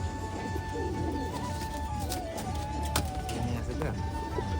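Pigeons at a home loft in Shantipur coo softly in the background, beneath steady ambient noise and someone talking.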